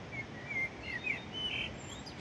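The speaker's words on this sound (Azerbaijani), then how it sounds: "Oxuyan həmin quşdur, qara toyuqdur." A common blackbird sings in a park garden, a thin, faint run of high warbled phrases over steady low outdoor background noise, with no voices present.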